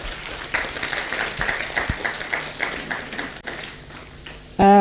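An audience at an international scientific conference applauds an award recipient with a steady, moderately faint patter of clapping that continues for several seconds before fading.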